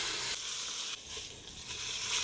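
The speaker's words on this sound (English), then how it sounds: "Then we're going to sear the meat on all sides, which will just take about 3 to 5 minutes per side." Meat sears in a Hoffritz dual-setting pressure cooker, giving a continuous close sizzle and hiss with slight shifts in intensity and no voices.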